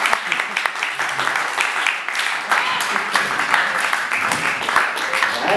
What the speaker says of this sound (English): was a really long applause